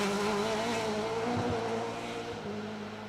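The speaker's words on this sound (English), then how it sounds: "See just how slippery this stage was under the tyres of that Corsa, just scrabbling for grip both in the braking zone and trying to get the power down" A Corsa rally car scrabbles for grip on a slippery forest stage, its engine droning steadily with tonal revs that waver as it brakes and tries to put power down, fairly close and fading slightly.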